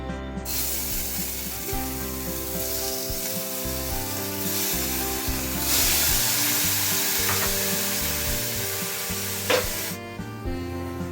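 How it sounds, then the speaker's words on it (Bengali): Paneer pieces frying lightly in a little brushed-on oil in Amway cookware give a steady, close sizzle throughout, with occasional stirring and scraping sounds. "এবারে আমি হালকাভাবে পনিরগুলোকে ভেজে নেব।"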